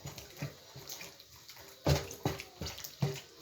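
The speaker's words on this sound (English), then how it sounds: "I'm washing it in hot water." Meat is rinsed in hot water in a basin, water sloshing and splashing in a series of uneven wet bursts close by with quiet gaps between.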